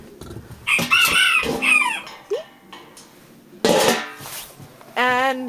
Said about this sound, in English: The chicken.